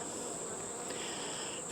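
Honeybees around an opened hive give a faint, steady high buzz that lingers for under two seconds, heard alone without talk.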